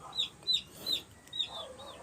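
Several short clucks from chickens, spaced in an uneven rhythm, fairly close, with a faint farmyard murmur underneath.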